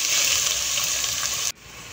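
Garlic and onion sautéing in a pan for sinigang na bangus sa miso, a loud, steady broadband sizzle that cuts off abruptly near the end, leaving a quieter hiss.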